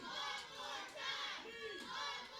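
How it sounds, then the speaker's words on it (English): Wrestling crowd at an independent show chanting in unison, loud rhythmic rising and falling shouts repeated across the room, a mass of voices carrying over the hall. "the crowd at home saying one more time"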